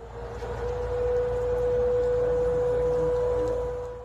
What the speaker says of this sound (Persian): صدای آژیر در غرب تهران، یادآور روزهای تلخ جنگ